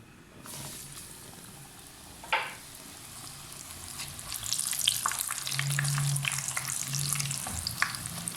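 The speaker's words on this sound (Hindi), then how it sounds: "इसको हाई फ्लेम पे भटूरों को फ्राई करना है जी।" Bhatura frying in hot oil over a high flame, a continuous crackling sizzle that swells and grows denser after the dough goes in, with a sharp clatter early on, close and without talk.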